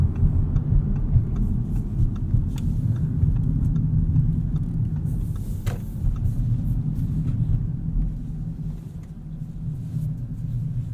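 A 2016 Audi S7 with a 4-liter turbo engine, quattro and s-tronic gearbox rumbles steadily from inside the cabin as it slows and pulls off the road, with road and tire noise under a low engine drone.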